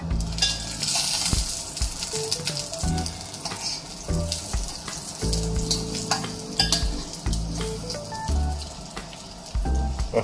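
Eggplant sizzles and spatters frying in a hot pan with stirring scrapes and clatter, a continuous close crackle with occasional clinks of utensils.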